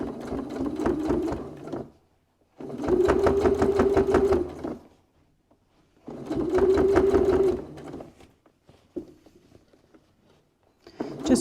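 A sewing machine stitches fabric for a cosmetic bag in three bursts of steady rapid whirring, each about two seconds long, with quiet pauses and faint handling noises between them, close by.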